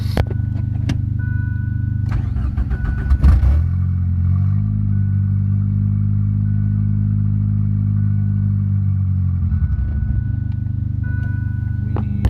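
A Ford Probe engine on a standalone ECU firing up and running, loud and close, with clattery uneven bursts at first and near the end around a long steady low idle.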